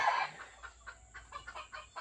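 Gamefowl chicken giving soft, repeated clucks while being held and handled, faint and close, with a short louder burst at the start and no talk.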